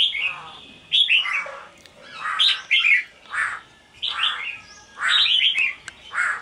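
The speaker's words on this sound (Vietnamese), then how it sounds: "Anh em nhìn con chim rất là nhanh nhẹn." A small songbird chirps close by in quick, bright bursts of several notes, repeating in short phrases with brief pauses between them and no talking.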